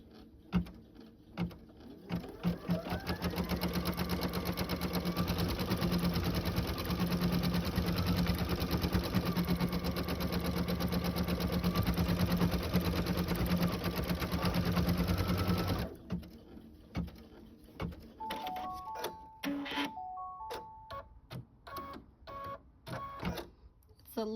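A sewing machine runs in one long, steady, rapid stitching burst, sewing a placement line for a glitter sheet, then stops and leaves quieter clicks and handling noises, with a voice talking at moments.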